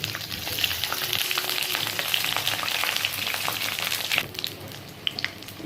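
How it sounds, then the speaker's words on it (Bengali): Eggplant pieces fry in hot oil with dried red chillies and nigella seeds, giving a loud, dense, continuous sizzle with crackling spatters all the way through. No one speaks. "তেল গরম হয়ে গেছে, দিলাম শুকনো লঙ্কা আর কালো জিরা। এবার দিয়ে দিচ্ছি বেগুনগুলো।"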